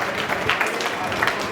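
An audience at a metal engineering and fabrication industry association's annual general meeting in Chitwan claps for a speaker, a brief, moderately loud spatter of applause with no talk over it.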